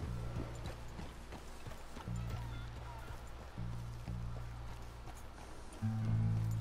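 Horse hooves clip-clop steadily in Red Dead Redemption 2, a rhythmic trotting patter over a low engine-like hum and background ambience.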